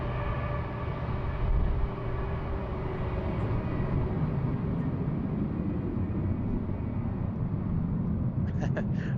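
An airliner departing down runway 16 at Sydney Airport, a steady broad engine roar with a high whine running throughout, heard from a distance at a constant level.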